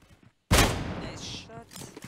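Gunfire in the mobile battle royale game PUBG Mobile during a competitive scrim, a sudden loud burst of shots followed by a rapid rattling volley and fading echoes, with a voice speaking over it.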